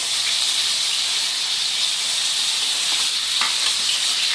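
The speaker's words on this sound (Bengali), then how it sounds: "আর এখন আদা বাটাটা ভালো করে কষিয়ে নেব, যতক্ষণ আদার কাঁচা গন্ধটা না চলে যায়।" Ginger paste frying in oil with whole spices, a dense, bright sizzle and hiss running steadily for a few seconds, with a couple of faint stirring scrapes near the end.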